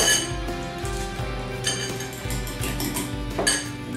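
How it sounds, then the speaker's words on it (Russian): A fork whisks two eggs in a bowl for a home recipe of cutlets in wafer sheets, giving a steady run of quick, close metallic clinks and scrapes that continue without pause. "И сейчас взобьем вилочкой яичко."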